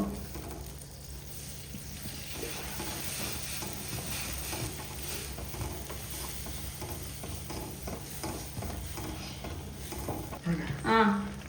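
Roasted semolina is added slowly to a pan on a low flame for pineapple sheera, giving a steady soft sizzle with gentle scraping throughout and a brief louder clatter at the end.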